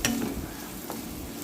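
Ginger garlic paste fries in a pan, giving a steady low sizzle with a stir or scrape near the start, close and continuous for a short moment with no talk.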